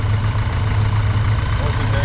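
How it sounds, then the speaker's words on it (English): Upright two-cylinder engine of a 1940 John Deere tricycle tractor at a summer show, running steadily with a low, thumping idle, close and continuous, with crowd chatter mixed in. "This John Deere tractor has an upright 2-cylinder engine"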